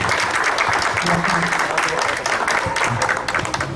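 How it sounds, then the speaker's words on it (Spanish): Lecture-hall audience applauding a speaker at a university lecture series, loud dense clapping sustained for several seconds with faint voices mixed underneath. "Un aplauso a Jorge Cervantes"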